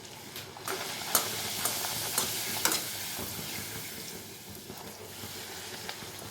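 Poori dough frying in hot oil with a steady close sizzle and hiss, broken by sharper crackling bursts as the bread puffs, no voices over it.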